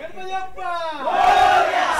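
Crowd at a rubber-ball cricket tournament prize ceremony in a village erupts in loud cheering and shouting, rising after a sustained voice and swelling into a roar of celebration.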